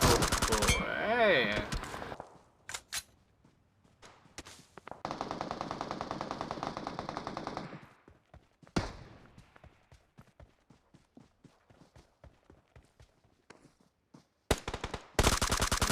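PUBG Mobile gunfire: sharp single shots and rapid automatic bursts, with a long sustained stretch of fire in the middle and loud close shots near the end, separated by quieter pauses with footstep-like clatter.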